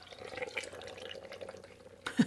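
Liquid from tomatoes pours into a blender already holding cooked vegetables and cashews, giving a steady soft splashing trickle with a brief louder gurgle near the end, with no talking.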